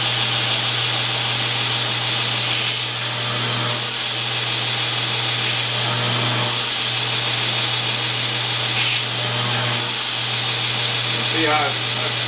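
A forged blade is ground on a belt grinder with 60 grit abrasive, a loud continuous motor drone with a rough grinding hiss that swells in several passes, and a voice talks over it.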